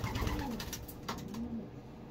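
A pigeon coos twice nearby in a pigeon loft, soft low rolling calls over a faint rustling background, no speech.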